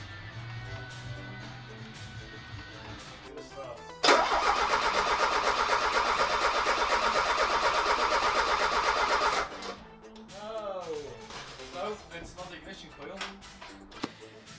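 A Peugeot 205 1.6 GTI engine cranks and catches, bursting into a loud, steady run for several seconds before dropping back; other sounds follow after it settles.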